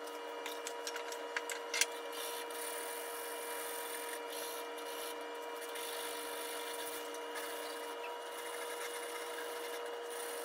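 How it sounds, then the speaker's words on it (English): A long sanding stick is rubbed by hand over a scrap wood picture frame, producing a faint, steady scraping hiss with a few quick sharper strokes early on, heard alone at close range. "So I'm just going to sand it out."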